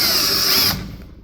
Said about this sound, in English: Okay, just going to trim these with the drill bit,